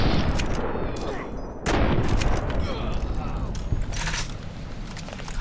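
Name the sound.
rifle gunfire in a video game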